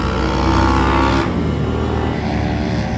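Road traffic beside a roadside stop in Portugal, with a loud motor vehicle roaring close by and then easing into a steady rumble of passing cars and motorbikes, no talk.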